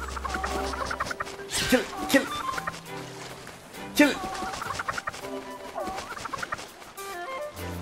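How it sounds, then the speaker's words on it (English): Chicken clucking in the video game Zelda: Echoes of Wisdom, a few short bird calls mixed with game music and a voice shouting over it. "Oh no! The stupid bird."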